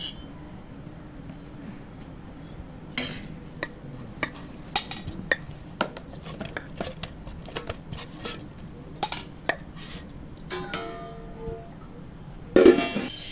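A flat chatu pan is set on a kitchen stove amid scattered metallic clinks and knocks of cookware and utensils, sharp and close over a quiet background hum.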